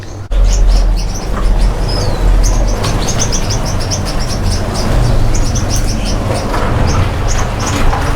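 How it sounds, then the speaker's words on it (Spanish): Gouldian finches in an indoor aviary flight with breeding adults and weaned young, a steady stream of many small chirps and tweets over a constant low hum, with occasional wing flutters. "Aquí están todos los pájaros, ya los reproductores, y los pollos ya destetados."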